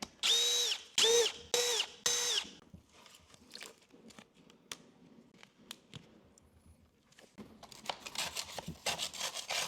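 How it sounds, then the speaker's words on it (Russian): A power tool whirs in several short bursts while a PVC insert is unscrewed, followed by scraping, tapping and rubbing handling noises, then a final run of rapid grinding; close and fairly quiet. "Сзади я откручиваю вкладку из ПВХ, которая там была"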